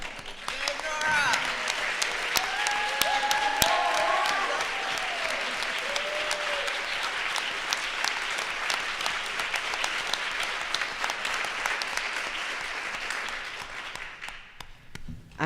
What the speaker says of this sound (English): could you stand so we could give you a round of applause?